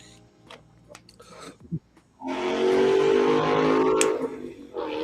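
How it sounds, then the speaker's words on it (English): A motorcycle roars past nearby, its engine loud and rising for a couple of seconds before fading, after some quieter shuffling and clicks. "that was like a motorcycle or crotch rocket"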